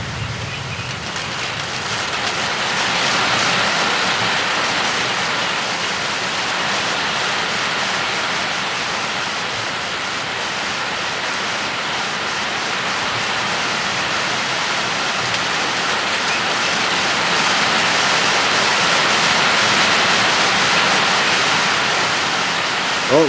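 Heavy rain pours steadily during a short, fast-moving storm, a dense continuous hiss of water on surfaces that swells slightly partway through and holds throughout.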